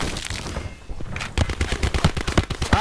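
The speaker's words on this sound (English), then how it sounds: "Alright, shooting at me right now." Gunfire in Call of Duty Black Ops 4 Blackout: sparse shots give way to a rapid, loud automatic burst of evenly spaced cracks in the second half, heard over game background noise.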